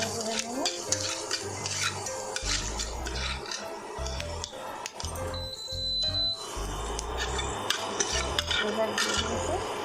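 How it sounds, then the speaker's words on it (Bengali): A utensil stirs panch phoron and a dried red chilli in a pan, scraping and clinking against the metal with soft frying crackle, in irregular strokes with no voices. "নাড়াচাড়া করে নেব।"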